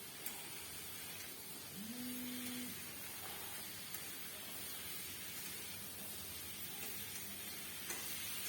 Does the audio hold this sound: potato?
yes